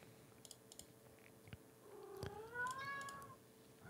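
A pet cat lets out one short, rising meow, faint and close, after a few quiet clicks and taps in an otherwise still room.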